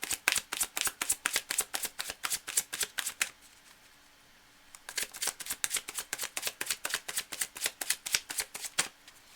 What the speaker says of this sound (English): Now I have to shuffle again, completely from scratch